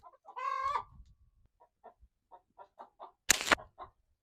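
A chicken clucks close to the microphone, with a short squawk followed by a series of soft, evenly spaced clucks and a brief sharp burst near the end, no talking.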